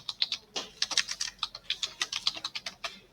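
Typing on a computer keyboard, a quick, fairly even run of close, crisp key clicks with no one speaking.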